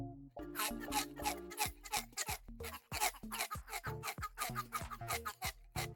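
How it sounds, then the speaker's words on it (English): A bird-like carnivorous creature in a Minecraft speculative-evolution world gives strange tweeting calls: quiet, rapid, pitched chirps and clucks in uneven bursts with short gaps, and no talking. "A strange tweeting can be heard."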